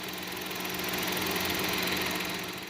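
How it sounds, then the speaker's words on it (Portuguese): A warmed-up Chevrolet Tracker engine running steadily at idle, a continuous close, even mechanical hum with light ticking texture and no talk over it. "como que é o barulho do motor na primeira partida do dia e depois de você andar bastante com o carro"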